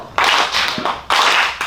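An audience at a real estate association event claps in bursts during a crossed-arms clapping game, two loud swells of group clapping separated by a brief pause, with no talking.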